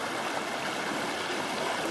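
Stream water pours over rocks at a bush crossing in Brisbane Water National Park, a steady, close, even rushing wash with no voices.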